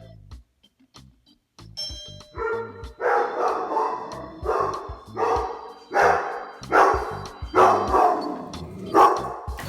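A dog barks repeatedly in loud, rhythmic bursts after a doorbell chime, set off by the ring at a house door; the barking continues steadily to the end with no talk.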